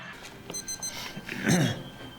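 A short series of thin electronic beeps rings out in quick succession, fairly quiet, over faint background noise.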